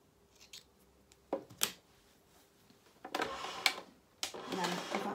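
Scissors snip threads close to a sewn shirt seam in a few short, quiet cuts, among light handling noises and bursts of sewing activity, with someone talking intermittently.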